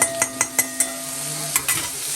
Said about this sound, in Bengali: ওই তোমার কি বলে দারচিনি এলাচ ওগুলো গরম মশলা দিয়ে এখন পেঁয়াজ ভাজছে